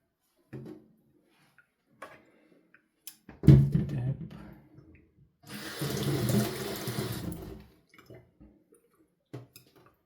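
A kitchen tap runs in a short two-second gush while something is rinsed clean under the stream, surrounded by quiet clinks and knocks of handling; no one speaks.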